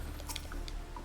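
Crops get watered by hand in the garden of the Island Sanctuary in Final Fantasy 14, giving a few soft, wet squishing and dripping splashes in quick succession.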